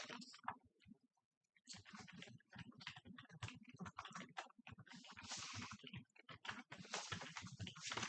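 Rapid typing on a computer keyboard during a county commission meeting, dense clattering keystrokes running nearly continuously and close by, with a brief pause near the start and murmured talk mixed in.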